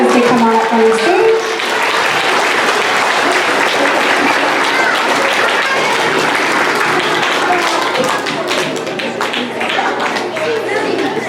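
Loud, continuous applause fills a school auditorium as students come up onto the stage at a quarterly awards ceremony. Many hands clap, with crowd chatter and footsteps underneath, and the clapping keeps going at a steady level.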